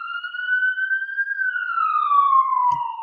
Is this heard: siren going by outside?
yes